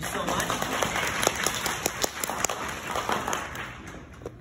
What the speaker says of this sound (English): Everyone give Ruben a round of applause.